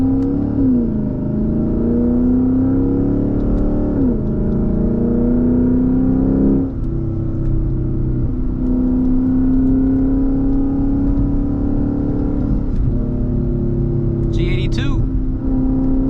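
A Lexus IS F V8 growls from inside the moving car, revs climbing in repeated sweeps with short dips at each shift, a steady deep rumble carrying throughout, loud and close, with a brief high chirp near the end.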